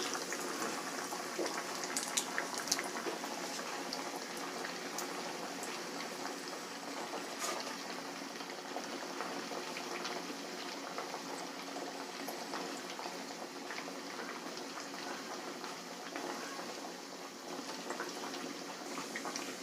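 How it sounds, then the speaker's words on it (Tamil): Vegetable cutlets frying in hot oil, a continuous soft bubbling sizzle with scattered small pops, steady and fairly faint throughout. "இப்போ ஆயில் ஒன்று சூடாயிடுச்சு. நம்ம கட்லெட் பொரிச்சு எடுத்துக்கலாம்."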